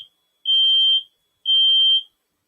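A home fire alarm sounds two long, piercing electronic beeps about a second apart, loud and steady with silence between them and no talking.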